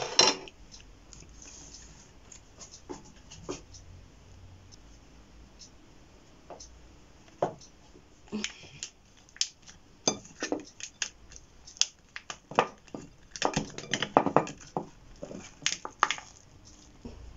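A homemade noni cheese, freshly unmolded, being cut in half, heard as scattered soft clicks and scrapes of a knife and utensils against a plate, sparse at first and then denser and sharper toward the end.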